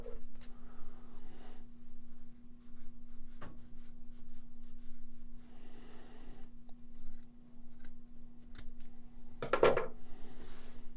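Scissors snip excess material off a shellac pad in a few quiet, separate cuts with soft rustling between them and a faint steady hum underneath.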